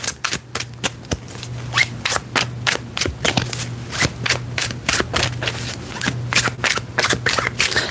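A deck of tarot cards is shuffled up close in a steady stream of crisp riffles and snaps, with a low constant hum in the background.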